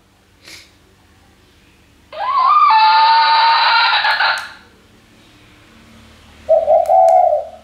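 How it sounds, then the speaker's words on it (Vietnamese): Two electronic-sounding dove coos from a small WE 898 bird-trapping speaker, a long warbling call followed after a pause by a shorter one, fairly loud and near. "Đây ví dụ như là tiếng cục cu này,"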